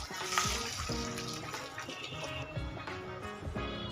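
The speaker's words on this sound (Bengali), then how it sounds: "মেজারিং কাপের 2 কাপ জল দিলাম।" Water poured from a measuring cup into a hot pan for pakora kadhi, a continuous splashing, gurgling stream, close and steady for several seconds.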